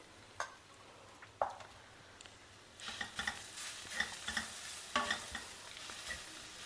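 Pumpkin bhartha with fresh grated coconut stirred in a pan, quiet scraping strokes and soft clicks of a spoon over a faint sizzle, up close.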